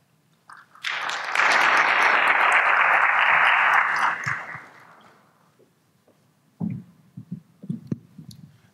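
Audience applause at a Ghana CEO Summit conference panel swells quickly into dense sustained clapping for about three seconds, then fades out, followed by a few faint thumps and a brief murmur.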